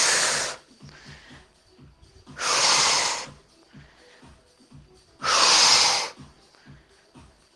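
Deep, forceful breaths taken during squat exercises: three loud, rushing exhales about two and a half seconds apart, each lasting under a second, with quiet rustling and soft breathing in between.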